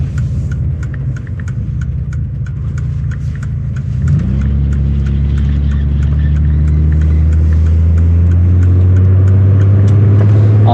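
A 1987 Mercedes-Benz 300E W124 drives along with a somewhat loud exhaust, its engine rumble droning steadily from inside the cabin, then the pitch rises as it accelerates and holds a stronger hum.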